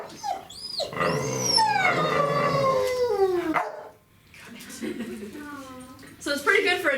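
A deaf dog gives a run of drawn-out, howling barks and yips at close range, several rising and falling vocal calls with a short pause before a final burst.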